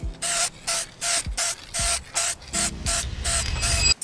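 Car trim and bumper being spray painted with bumper paint over primer on a Honda Civic: repeated short hissing bursts of spray, evenly spaced and close, with no speech.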